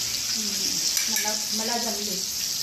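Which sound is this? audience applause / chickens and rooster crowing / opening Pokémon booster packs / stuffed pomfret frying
stuffed pomfret frying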